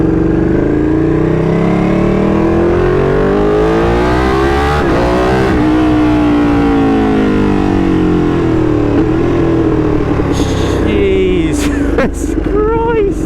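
A 2016 Ducati 959 Panigale sport motorcycle revs very loudly up close, its engine pitch sweeping up and down through repeated throttle blips, with a few short sharp bursts near the end.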